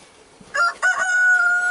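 A fighting rooster crows loud and close, one sustained cock-a-doodle-doo rising after a short broken start, with no talk over it.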